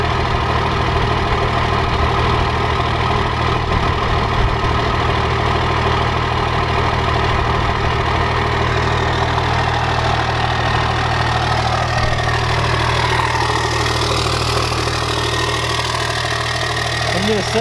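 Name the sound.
12 valve Cummins diesel engine idling, 5 inch straight pipe exhaust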